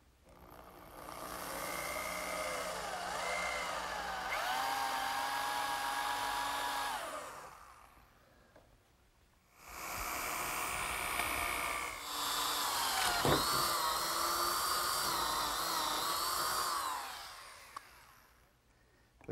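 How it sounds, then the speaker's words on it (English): Power drill with a 1 3/8 inch bit boring through an oak 2x4 for a workbench screw: a loud whining motor with shifting pitch as it cuts, in two long runs separated by a short pause, no talking. "I'm ready to drill a hole through the 2x4 in oak for my bench screw"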